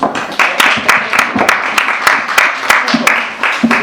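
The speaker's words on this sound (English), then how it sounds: "Let's please give a warm round of applause." An audience applauds at a rock photography event, a broad wash of many hands clapping with sharp individual claps standing out, steady and fairly loud throughout.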